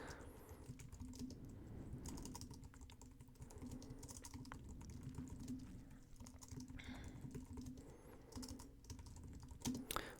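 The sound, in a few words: typing a blog post outline on a computer keyboard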